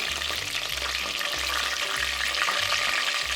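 Chicken wings frying in hot oil for a crispy fish-sauce chicken dish, a steady close, loud sizzle and crackle running unbroken throughout with no voices.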